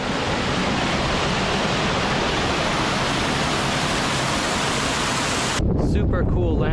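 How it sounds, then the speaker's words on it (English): A small waterfall on a hiking trek in Patagonia, heard as a steady, loud broadband rush of falling water close by that fills the whole clip without a break. "Just found this nice little waterfall."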